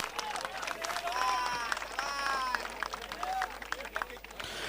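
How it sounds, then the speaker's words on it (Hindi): Crowd clapping at a cricket tournament prize ceremony on the final day of a local premier league, steady outdoor applause under an announcer's voice and faint cheers. "ताली तो बजती है यार।"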